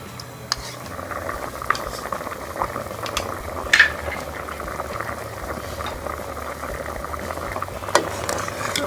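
Vegetable soup simmering in a pot with a steady bubbling boil, punctuated by a few sharp clinks and scrapes of a spoon stirring against the pot.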